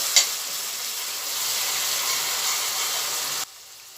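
Chopped onion and peppers frying in a pan, a steady close hiss of sizzling oil that starts with a brief clatter and cuts off abruptly near the end, no voices.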